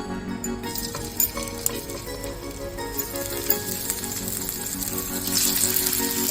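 Small marinated pieces of mullet (khainga) fish fry in a pan with a steady, dense sizzle and occasional clinks of a utensil, under continuous background music.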